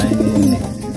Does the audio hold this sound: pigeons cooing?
yes